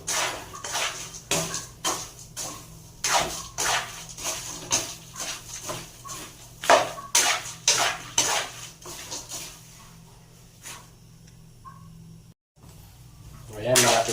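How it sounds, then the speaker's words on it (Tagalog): Sweet peanuts are stirred in a pan, a spoon scraping and knocking against the metal in regular strokes that stop partway, with talk over them. "kailangan halo ka lang ng halo dyan guys para maluto"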